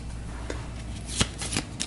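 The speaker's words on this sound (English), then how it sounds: "We'll give this a shuffle." Shuffling of a turn order card deck during a tabletop board game, a short close riffle of cards with a few crisp snaps, heard alone.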